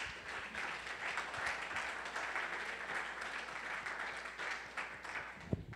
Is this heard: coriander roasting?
no